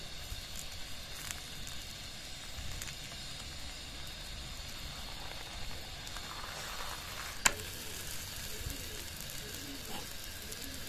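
A wheat flour dosa sizzles steadily on a hot pan after being flipped, a soft continuous crackle with one brief sharp click partway through and no talking.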